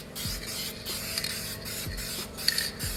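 Aerosol spray can hissing out a light coat of paint onto a pitted chrome wheel, in several sustained bursts separated by brief pauses, with faint low knocks and rattles between passes.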